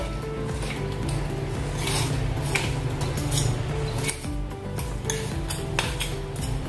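Grated coconut being stirred into melted jaggery in a pan for steamed modak filling, with steady scraping and clinking of a utensil against the pan, close and continuous with no talk.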